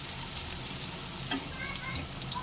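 Potato curry sizzles gently in a pan while it is stirred, a soft steady frying hiss with faint scraping, fairly quiet and close.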